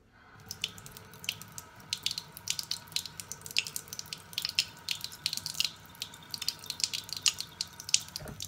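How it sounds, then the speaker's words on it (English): Water runs steadily from a tap into a sink during razor honing on a Coticule stone, with splashy, uneven spatters throughout, close by and fairly quiet. "Let's get some water going."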